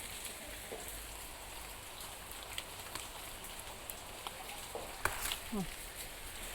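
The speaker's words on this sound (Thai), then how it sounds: "ฝนตกค่ะพี่น้อง" Faint, steady rain falls outdoors in the background, a soft continuous hiss with a few scattered louder drops and knocks.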